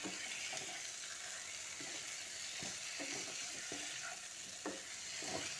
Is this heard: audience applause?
no